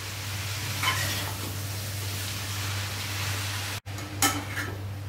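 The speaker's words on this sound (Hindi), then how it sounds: "हमने पालक भी इसमें डाल दी है, अब इसको अच्छे से मिक्स कर लेंगे।" Spinach and masala are stirred in a pan for palak paneer bhurji, giving a soft steady sizzle with occasional scraping strokes and a brief drop in sound near the end.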